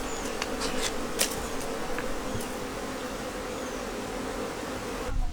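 Honeybees hum steadily around hive boxes during hive work, a dense, continuous buzz close by with a few louder bees passing near, and no voices.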